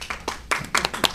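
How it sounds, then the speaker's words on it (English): A small comedy-show audience gives a brief burst of scattered handclaps, a few quick uneven claps over about a second. "you know, clap for that."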